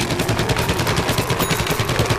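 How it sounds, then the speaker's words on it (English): Rapid gunfire from a Plants vs Zombies Garden Warfare multiplayer match, a dense steady stream of shots at close range with no talking over it. "Oh, I'm getting shot at."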